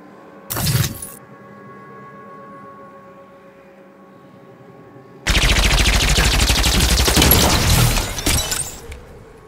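Needler gun from Halo 5 firing while aiming down sights: a short burst near the start, then a loud sustained stream of rapid shots for about three seconds over a quiet game hum.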